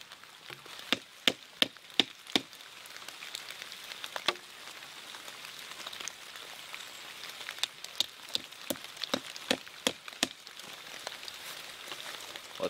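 Steady rain patters in the woods at a cabin building site, broad continuous hiss with frequent sharp drips and knocks of heavier drops hitting nearby surfaces, fairly close and with no talk.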